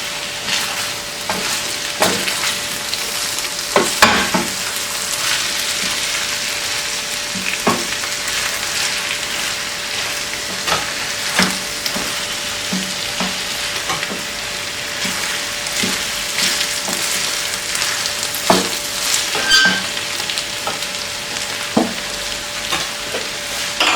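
Chopped onions sautéing in olive oil in a pan for stuffed peppers give a steady, close frying sizzle, broken by repeated sharp clicks and scrapes of a spoon stirring throughout.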